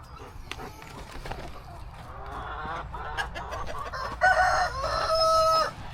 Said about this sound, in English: And chickens are doing good